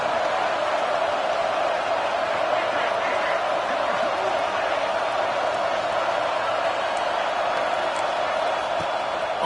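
A football stadium crowd at an Oklahoma at Florida State game roars in a steady, far-off wash of noise that holds at the same loud level throughout, with a voice talking over it.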